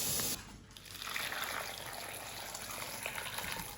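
Hot water poured from a kettle over chestnuts in a bowl, a steady close splashing gush that settles into a continuous trickling flow, with no talking.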